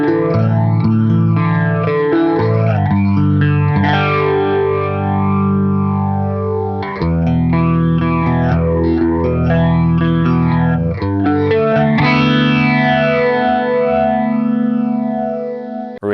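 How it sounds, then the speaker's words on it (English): Electric guitar run through a Super Phaser pedal, distorted, with sweeping phased tone and echo, played loud and continuous without talk, in the style of Incubus's "Stellar". "Really comes to life with that Super Phaser on."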